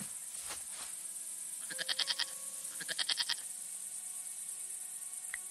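A goat tied to an old tire bleats in the video game Broken Sword 5, giving two short quavering calls close by over a faint ambient background.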